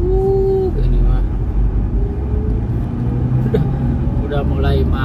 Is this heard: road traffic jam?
yes